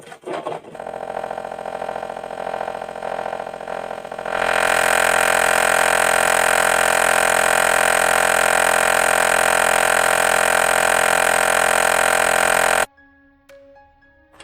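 A sewing machine stitches a bridal blouse seam, starting with a softer run and then settling into a loud, continuous whir for several seconds before stopping abruptly.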